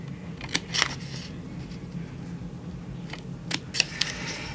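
A few sharp, crisp snips of scissors cutting paper, spaced apart in two small clusters over a low steady background hum.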